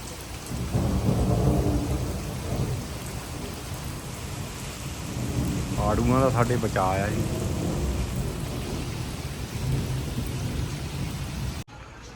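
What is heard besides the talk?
rain with thunder, thunderstorm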